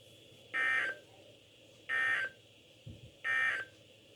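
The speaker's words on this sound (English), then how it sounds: "The warning alarm tone will be activated for hazardous conditions" Weather radio emergency alert warning tone, loud steady electronic beeps in three separate bursts of about half a second each, evenly spaced over a faint hum, with no talking.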